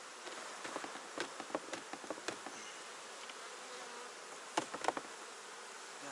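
Honey bees buzz faintly around an autumn hive as a frame is shaken, a soft continuous hum with scattered light taps and knocks.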